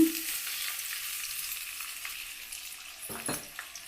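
Onions fry in oil in a kadai, a soft continuous sizzle heard up close with occasional stirring scrapes and a few sharper clatters toward the end, fairly quiet overall.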